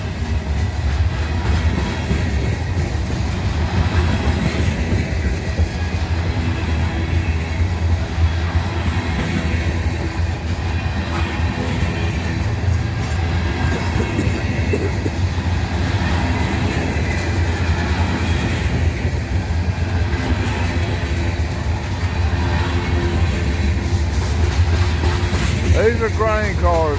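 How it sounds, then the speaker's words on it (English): A long mixed freight train with grain cars rumbles past close by, steady rolling noise with rhythmic wheel clacks and metallic squeals, continuing for the whole stretch. "So this is a mixed freight."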